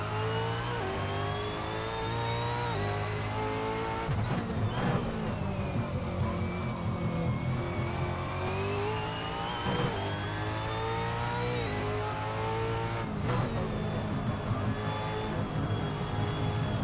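V8 Supercar racing around the Townsville street circuit in Assetto Corsa, its engine droning loud and steady throughout, with gear shifts and revs rising and falling over the curbs and corners.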